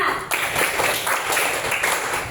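Several people clap a five-beat pattern together in a counting clap game, a dense run of close, fairly loud hand claps with little talking.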